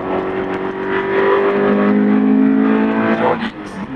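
A Toyota 86 engine revs hard through gear changes, a steady loud drone with rising and falling pitch and a small dip near the end, while someone talks over it.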